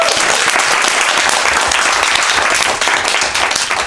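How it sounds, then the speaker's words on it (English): A poetry reading audience in a bookshop bursts into loud, dense applause, many hands clapping steadily and close for several seconds. "can we give them a round of applause?"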